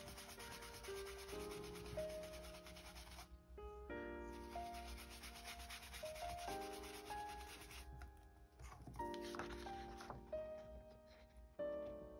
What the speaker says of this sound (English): So you just take a cotton rag and you just burnish it.